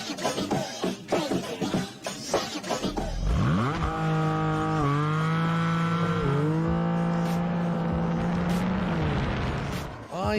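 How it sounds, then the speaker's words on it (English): A Porsche Cayman GTS 4.0 flat-six engine starts, then revs through a steady rising howl with a brief dip between gears, loud and close, after a stretch of talking. "It's got that super sweet flat six sound"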